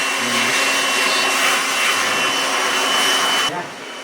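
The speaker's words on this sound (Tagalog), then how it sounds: "Yan po guys, mag-blower na." A loud, steady blower roars continuously at close range, whooshing air hard while cleaning an air conditioner outdoor unit, then cuts down abruptly near the end.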